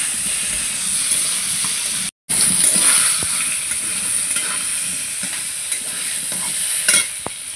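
Vegetables frying in a pan for a potato curry with jute and pumpkin leaves and lentils, a steady hissing sizzle with stirring scrapes, continuous and close, briefly cut out once partway through.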